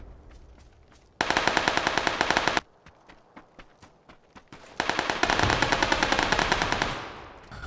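Two long bursts of rapid automatic gunfire in the battle royale game PUBG, loud and close, separated by a quieter stretch of scattered single shots and clicks, with no talking.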